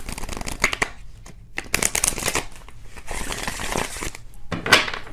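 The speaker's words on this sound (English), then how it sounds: "One more shuffle, and then we'll pick some cards here." Cards being shuffled in quick riffling bursts, crisp and close, with short pauses between several rounds.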